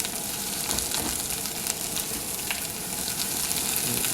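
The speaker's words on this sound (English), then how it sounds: "We'll give that a stir. You can see our Brussels sprouts are starting to caramelize a little bit." Brussels sprouts and carrots fry in a pan as they are stirred, giving a dense, steady sizzle with crackles and faint scraping, loud and close throughout with no talking.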